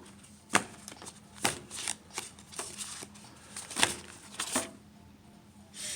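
A deck of tarot cards is cut and shuffled close by, with a series of sharp riffling snaps and soft slides spaced irregularly over several seconds against a quiet room.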